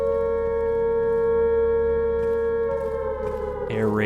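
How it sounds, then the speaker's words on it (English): A loud, sustained wailing air raid siren in a video game holds a steady pitch, then swoops downward near the end, with no talking. "Air raid sirens."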